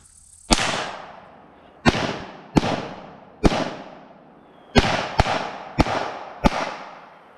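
A Glock 44 pistol fires copper rounds in eight sharp, loud reports, each followed by a short echoing decay. The shots come at uneven intervals, several of them in quick pairs, outdoors with no talking.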